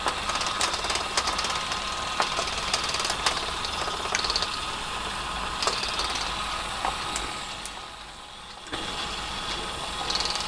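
A small fischertechnik gear mechanism run by a TXT controller turns freely, giving a steady mechanical whir with fast ratcheting clicks, close and continuous, with a brief dip near the end.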